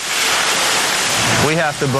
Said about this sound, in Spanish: Bombardeamos el camión con un cañón de agua a presión para quitar los pegotes de la pintura y dejarla limpia.